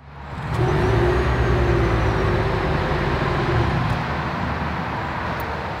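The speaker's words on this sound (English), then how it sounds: "So I'm just going to say here is the startup of the Venza." A 2022 Toyota Venza hybrid SUV starts up, a steady low engine hum rising after a brief quiet moment and holding evenly at close range, with no talking.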